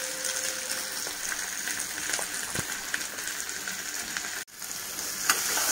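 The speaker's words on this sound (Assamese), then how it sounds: "এয়া আদা নহৰু দি পেলাই এনেকৈ লৰাই আছোঁ।" Ginger-garlic paste sizzles steadily in hot oil in a pan as it is stirred while a local chicken and bottle gourd curry is cooked. It keeps up a constant crackling hiss with a few faint scrapes and a brief clank near the end.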